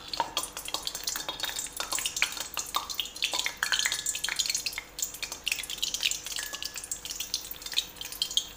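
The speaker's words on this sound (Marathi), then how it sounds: "मी गॅस बंद केलेला आहे आणि ह्या मिरच्या याच्या अशा पद्धतीने तळून घेते आहे" Green chillies frying in a pan of hot oil with the gas turned off, giving a steady crackling sizzle with small pops and occasional stirring clinks, close and continuous throughout.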